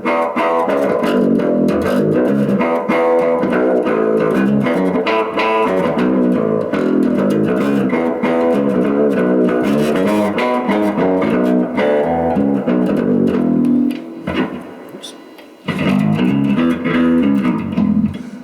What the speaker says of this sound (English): roll the reverb to 10, because this sounds better with reverb